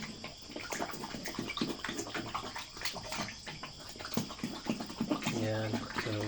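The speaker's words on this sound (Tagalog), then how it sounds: "Tapos ihigop niya ng tubig." A recovering pig slurps and gulps water at close range in repeated wet bursts, mixed with splashing and scattered background voices.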